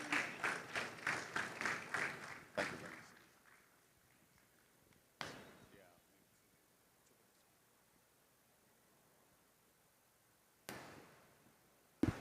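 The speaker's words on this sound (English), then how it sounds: "Please keep clapping for him." An audience at a Nigerian manufacturing and raw materials expo claps in a brief, lively burst of rhythmic applause that fades within a few seconds, followed by near silence broken by a few sharp isolated knocks.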